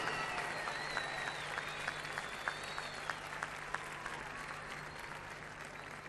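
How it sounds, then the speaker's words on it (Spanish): Audience at a live rock concert at Tecnópolis applauding, a steady wash of clapping from a large crowd with faint whistles and cheers, sustained throughout at a moderate distance. "¡Fuerte aplauso, Lisandro!"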